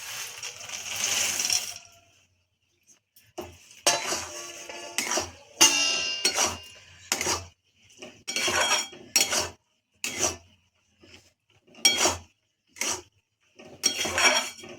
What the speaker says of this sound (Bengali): বাদামগুলো এবার ঢেলে দেবো।